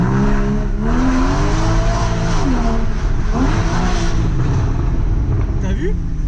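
A Porsche Cayman GTS in sport mode revs up and down several times, its engine note rising and falling loudly and close by, with people talking over it.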